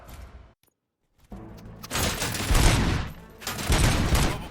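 Gunfire in the video game RoboCop: Rogue City breaks out after a brief silence, a dense loud barrage of rapid shots with booming low thuds, swelling in two sustained bursts.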